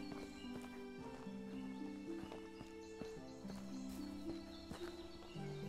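Horses at a horse dealer in the medieval game Medieval Dynasty, soft hoof clip-clops and shuffling movement under a steady ambient music bed, quiet and close.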